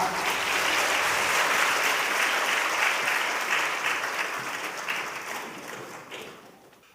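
Church congregation applauding at a Wednesday worship service, a dense, steady wash of many hands clapping that holds loud for several seconds, then gradually thins and fades toward the end.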